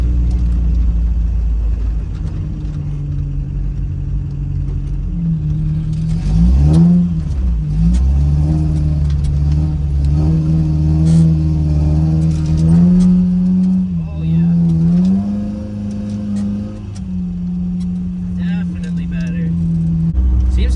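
A broken RAM 50 pickup truck is on a test drive. Its engine drones steadily, then climbs through several revving accelerations and shifts before settling back to a cruising hum, all loud and close from inside the cab.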